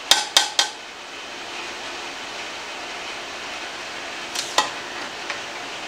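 A screen printing press part is tapped into place: three quick sharp knocks at the start, then two more after a pause, with a faint one near the end, close and distinct over quiet room tone.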